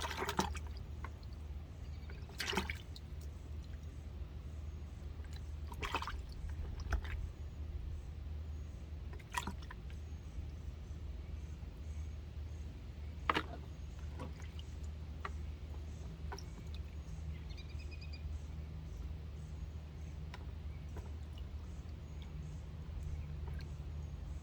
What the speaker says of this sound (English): Now this is me giving everything a good rinse off before I take it in the house